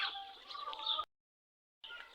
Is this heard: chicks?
yes